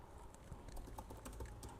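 Quiet, steady clicking of fingers on a computer keyboard, a soft run of keystrokes with no voices.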